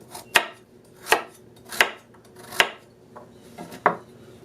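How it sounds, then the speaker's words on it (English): A sharp knife chops carrots on a cutting board in six crisp, evenly spaced thunks, close and clear with no talking. "I'm going to go ahead and finish cutting up all these carrots"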